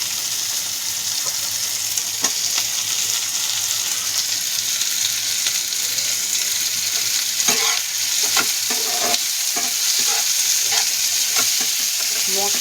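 Capsicum being stirred and fried in a pan with chillies and sauce, a steady close sizzle running throughout with scraping spatula strokes and clinks scattered over it, no talking.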